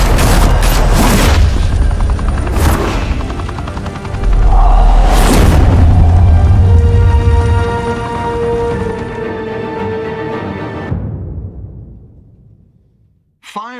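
Loud Batman Telltale game combat with booming explosions and bursts of gunfire, a heavy blast near the middle, rumble fading to near silence before a final thud.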